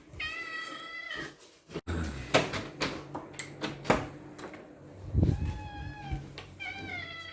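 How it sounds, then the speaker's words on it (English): A pet cat meows close by in drawn-out, wavering cries at the start and again at the end, with quiet indoor clatter and a person talking in between. "most cats, they have a meow"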